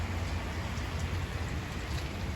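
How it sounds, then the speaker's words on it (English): Steady rain hisses down outdoors over a classic car collection lot, a constant dense wash of droplets with no pauses or voices. "Of course, it has to be a rainy day today."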